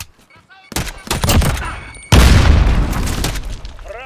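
Loud bursts of rapid gunfire followed by a heavy booming explosion in Call of Duty: Modern Warfare multiplayer, close and harsh, with a brief voice at the very end.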